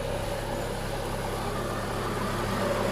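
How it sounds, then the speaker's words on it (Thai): A Honda CR-V 2.0 E i-VTEC 4WD idles smoothly and steadily, its low, even engine hum heard close up with no revving. "เครื่องยนต์นะครับ i v t e c 2000cc นะครับ เครื่องเดินนิ่งปกตินะครับ"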